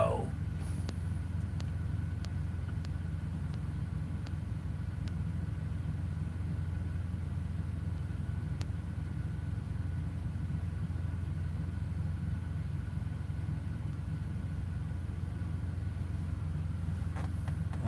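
A truck engine idles steadily throughout, a low continuous rumble close by with no other sounds standing out.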